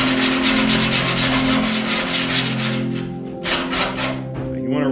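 A file scrapes burrs off the cut edge of a metal car roof during a vintage sunroof install, loud close rhythmic rasping strokes in quick succession, slowing into a few separate strokes near the end.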